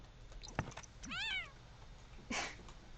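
A cat meows in The Sims 4 video game: one clear, rising-and-falling meow in the middle, then a shorter, harsher meow after a brief pause, both over faint background noise.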